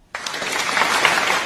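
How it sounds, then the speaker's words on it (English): Applause from a crowd bursts in suddenly and holds steady as a dense, continuous wash of many hands clapping, fairly loud and close, with no talking. "Applause."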